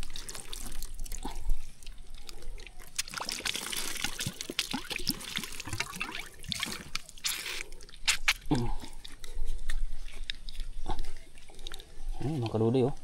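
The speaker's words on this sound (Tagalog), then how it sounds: "Bulwak ng tubig sa ibaba oh." Water gushes strongly from a natural spring, a steady rushing and splashing flow outdoors that carries on throughout, with voices talking over it at times.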